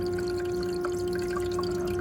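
An Igloo ICEB26HNAQ countertop ice machine runs its automatic self-cleaning cycle with water and bleach, a steady mechanical hum under light dripping and trickling water, close and continuous.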